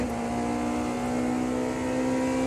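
A Porsche 963 LMDh race car engine in Automobilista 2 holds a steady, loud high-revving whine with a buzzing tonal drone, constant and close throughout with no voices.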